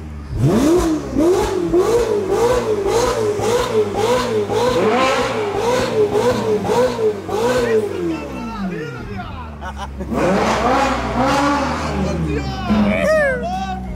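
A naturally aspirated Ferrari with its original exhaust fires up and revs repeatedly, loud and close, the engine rising and falling in a steady rhythm before dropping to idle and climbing again, with voices in the background.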